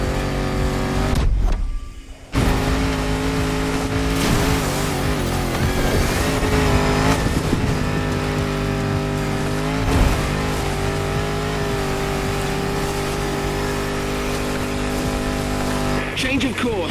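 A Land Rover Defender with 400 horsepower in the racing game The Crew Motorfest, its engine droning loud and steady with rising and falling revs and a brief cut near the start, while a voice talks over it.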